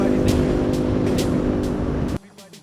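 BMW R nineT motorcycle, a 110-horsepower boxer twin, revving hard with a loud steady engine drone that cuts off abruptly near the end, leaving quieter background sound.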